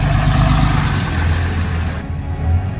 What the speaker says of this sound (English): it was like a Ford truck driving by in the middle of me talking